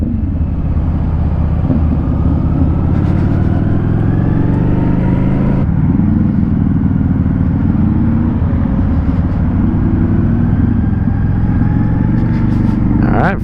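A Rebel motorcycle drones loudly and steadily while being ridden, with a continuous exhaust rumble and a gear change midway under wind noise.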